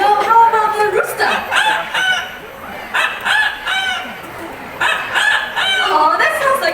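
A person imitates a rooster's crow with their voice, drawn-out rising and falling calls repeated several times over a few seconds, loud and close, in a bird park setting.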